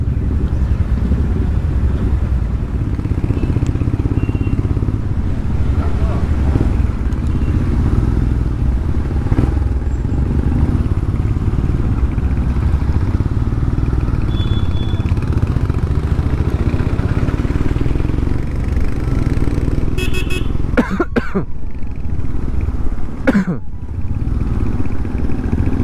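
A long convoy of motorcycles on a charity ride under police escort, a steady loud drone of many engines rumbling together throughout, with a few sharp clatters near the end.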